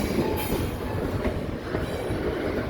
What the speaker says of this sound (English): This is the train that we saw earlier, the one that I saw in Point Claire